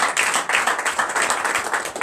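A congregation at a night deliverance and prophecy service claps loudly and steadily, a dense, sustained wash of many hands.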